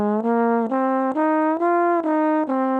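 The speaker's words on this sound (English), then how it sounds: "This is a pentatonic scale, so it's a 5-note scale. It sounds like this." Minor pentatonic scale in F played note by note, seven clean sustained tones stepping upward at an even pace with short gaps between them, clear and close with no voices.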